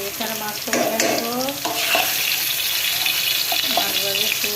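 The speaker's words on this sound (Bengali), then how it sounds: "তো এখানে মাছটা ভেজে নেবো" Fish pieces fry in hot oil in a pan, crackling and sizzling steadily and close up, with a few sharp utensil clinks and stirs along the way.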